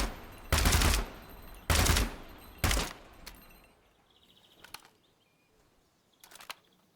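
Full-auto gunfire from a customized rifle in Gunsmith Simulator: three loud, short bursts a second apart, then scattered softer clicks and mechanical handling noises.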